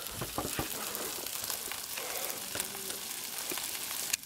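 Onions frying on a Blackstone griddle beside smash burgers, a continuous close sizzle broken by sharp crackles and scraping taps of a spatula, no speech.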